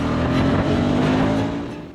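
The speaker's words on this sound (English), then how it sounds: "as the revs climb" A KTM 390 Adventure motorcycle engine holds a steady, buzzing rev at close range, then fades away over the last half second.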